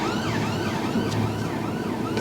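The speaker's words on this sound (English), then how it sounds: "Wait till the ambulance passes." An ambulance siren wails continuously in sweeping tones behind a learner car at a standstill, loud and close.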